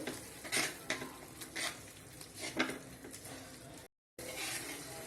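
Kerala beef fry mixture stirred in a pan, with repeated scraping and clinking strokes of a spoon against metal over a soft sizzle, close and fairly loud, cut by a brief gap near the end.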